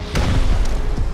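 A rocket explodes in the game Rust, heard as a single loud, close, booming thud that rolls on briefly, with no talk.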